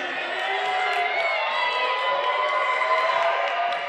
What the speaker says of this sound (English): let's cheer your favorite couple on as they take their places for their fourth and final dance